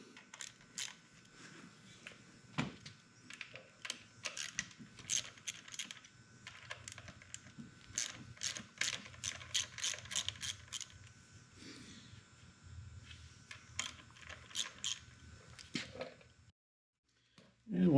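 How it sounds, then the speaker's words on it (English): An 8mm socket ratchet loosening the front fork lugs on a Beta 300 dirt bike, a long run of quick, crisp clicks in uneven bursts, close up, with low sounds in between. "using an 8mm socket, we're going to loosen the front fork lugs"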